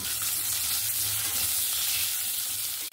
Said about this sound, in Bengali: আর একটু সামান্য পরিমাণ একটু তেল দিয়ে আলুগুলোকে ভেজে নেব